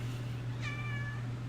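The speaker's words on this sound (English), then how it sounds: "That's my cat." A single house cat's meow, a short clear rising-falling call heard fairly close, over a constant low electrical hum, with no speech.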